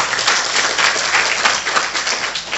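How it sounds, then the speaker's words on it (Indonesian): A church congregation applauds during a worship service, a full, continuous burst of many hands clapping together at close range, with no talk over it. "Tepuk tangan untuk Tuhan kita."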